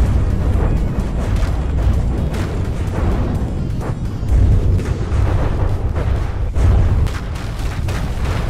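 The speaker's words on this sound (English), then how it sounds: "And here come the missiles." Missiles explode repeatedly in a robot combat battle, a loud, dense barrage of booms and bursts layered over continuous rumbling for several seconds.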